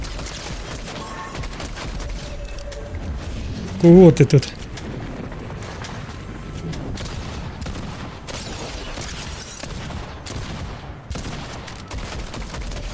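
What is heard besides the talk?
gunfire shootout in a video game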